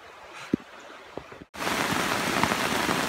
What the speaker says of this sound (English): When you're waiting for the rain to slow down, and all it does is pick back up.